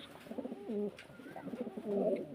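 A blue satin pigeon coos close by in a few soft, throaty rolling phrases separated by short pauses, with no talk.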